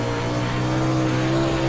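Loud, steady engine drone of a dirt late model race car in iRacing, a constant buzzing hum with no pauses or voices.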